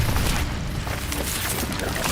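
An Incendio fire spell cast in the video game Hogwarts Legacy, a dense, loud rumbling burst of flame that roars steadily for about two seconds.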